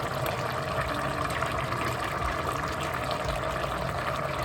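A pot of aji de fideo, a noodle dish, bubbles and simmers on the stove with a steady, continuous watery roil that holds at an even level and sounds close.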